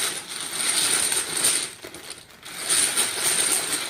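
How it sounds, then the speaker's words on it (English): Hard plastic dominoes clatter and rattle continuously, shaken together in a Ziploc bag, with a brief lull midway before the jostling picks up again. "you have to wash the dominoes. I like to put them in a Ziploc bag"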